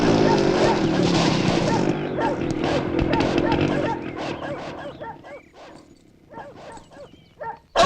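Several dogs bark angrily in a rapid, dense volley that is loud and close at first, then thins into scattered yips while people talk nearby.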